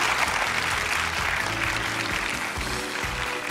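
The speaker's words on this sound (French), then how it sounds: "On les applaudit très fort." A television studio audience claps loudly and steadily throughout a Christmas game-show special, with a low hum or music underneath.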